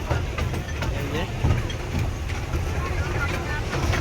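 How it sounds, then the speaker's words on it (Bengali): Amusement park toy train at Nicco Park rolling along with a steady rumbling clatter, close by, while people talk over it. "আমাদের ট্রেন কিন্তু ছেড়ে দিয়েছে,"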